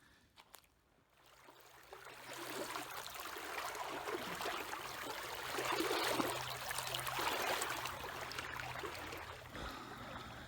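Creek water flowing steadily outdoors, a broad rushing wash that swells and stays continuous through the stretch, with a faint low hum beneath it.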